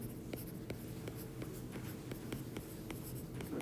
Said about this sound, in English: So I'll write shuffled training data set.